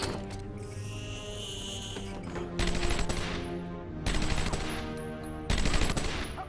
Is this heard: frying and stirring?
no